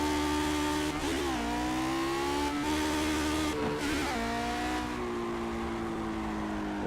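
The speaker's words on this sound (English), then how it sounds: "Listen to the car and watch the RPM." A Lotus 49 race car engine in the Project Cars racing game screams and climbs in pitch, drops sharply at each of several quick gear changes, then climbs again. The sound is loud and continuous, with no talk.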